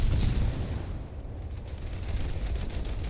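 A warship's main guns fire in War Thunder with one heavy, close boom that rolls into a long, low rumbling decay.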